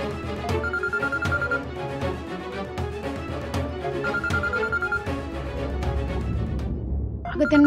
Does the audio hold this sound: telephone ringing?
yes